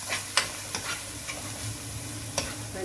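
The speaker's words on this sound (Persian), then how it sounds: "سس هم میزنیم" A spoon stirs a sauce seasoned with pepper in a sizzling pan, giving a few sharp scraping clicks over a soft, continuous frying hiss, close up and without speech.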